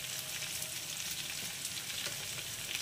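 Vegetables frying in a pan with tomatoes just added for a Bengali dish of water spinach and mung dal; a steady, close hissing sizzle runs continuously with no talking.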